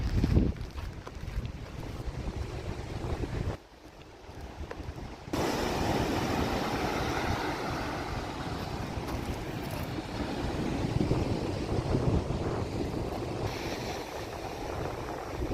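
Strong gusting wind at an Olympic National Park beach buffeting the microphone in a continuous roar, with a brief lull partway through and a faint surf wash underneath.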